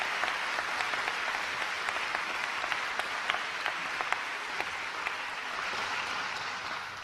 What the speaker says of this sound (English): Give your families a nod of thanks, a great big round of applause.